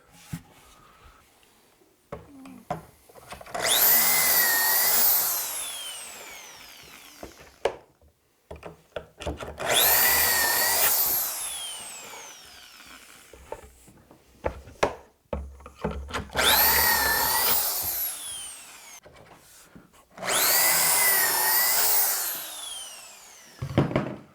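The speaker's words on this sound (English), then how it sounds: "we'll drill the pocket holes on a piece" A power drill bores pocket holes into wood in four long bursts of a few seconds each, whining loudly with brief quiet pauses and clicks between.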